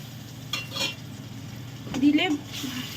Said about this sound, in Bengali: দিয়ে ভালো করে আবার একটু কষে নেব।